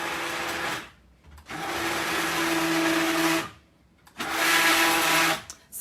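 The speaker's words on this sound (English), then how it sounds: "I'll try and get my stick blender right over it so it mixes it in." A cordless stick blender whirs through coffee soap batter with buttermilk powder in three loud bursts, each a steady motor whine lasting a second or two, separated by short quiet pauses.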